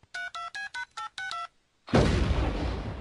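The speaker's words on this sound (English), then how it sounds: "he dials a number again, and he hits the send button, and there's another explosion" Six short electronic keypad tones beep in quick succession, a brief pause, then a loud, rumbling explosion that roars and slowly trails off.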